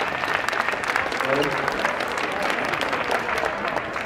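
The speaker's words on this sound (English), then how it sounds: "I think that's probably a good round of applause" A round of applause from a crowd at a spring juggling gathering, dense steady clapping that runs the whole time with voices mixed in beneath it.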